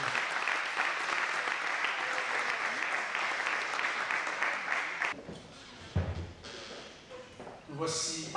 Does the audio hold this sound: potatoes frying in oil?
no